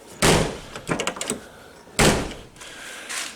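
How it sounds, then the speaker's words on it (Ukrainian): Doors of a Renault Kangoo van being opened and shut after a door lock repair, two solid thuds with latch rattling between them, close and fairly loud. "Всі решта дверочки у нас тепер відкриваються, працюють."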